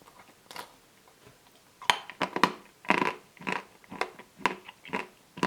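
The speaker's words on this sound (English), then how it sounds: "Let's take a bite out of this top chocolate piece there." Someone bites and crunches through the hard chocolate top of a Zott Monte ice cream, giving a run of close, crisp, irregular crunches and chewing noises with no talking.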